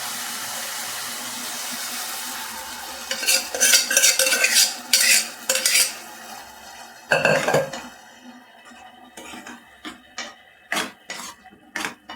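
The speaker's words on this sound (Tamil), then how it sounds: "இப்போ நம்ம குக்கரில் வேக வச்சுருந்தீங்களா அதையும் கொட்டிடலாம்" Pressure-cooked ingredients tipped into a pan of snake gourd kootu, heard as a run of loud scraping and clattering utensil strokes against the pan, then a heavy wet pour followed by sharper intermittent clinks and stirring.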